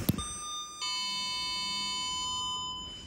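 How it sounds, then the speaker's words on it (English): A 2007 Otis GeN2 lift in a hospital multi-storey car park sounds its arrival chime: a sharp click, then a clear electronic tone that shifts pitch once and rings steadily before fading. "Let's listen to the chime."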